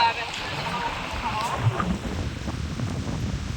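Wind sweeps over open water as a fishing boat is rocked back and forth. A steady, rough outdoor rush of wind noise carries soft watery movement, close to the microphone and continuous throughout.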